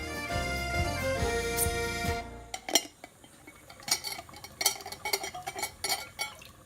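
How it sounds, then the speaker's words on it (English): A low bubbling hum gives way to a series of glassy clinks and knocks, as jars are set down into a pot one after another. "Let's sterilise them by putting them into the boiling water."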